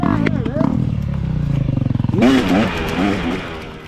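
A dirt bike climbs a single-track hill, its engine revving close and loud in rising and falling bursts, with a voice audible alongside.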